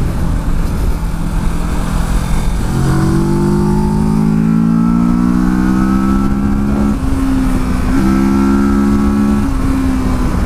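A 2018 Kawasaki Versys 650 motorcycle drones loudly while being ridden through bends, its engine note rising steadily, dipping briefly at a couple of shifts, and climbing again. Heavy wind rush sits beneath it throughout.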